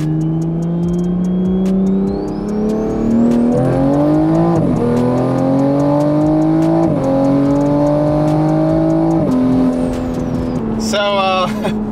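A big-turbo A90 Toyota Supra with a B58 engine revs hard from a brake boost and climbs through second gear, pitch rising in surges with a high turbo whine, loud and close.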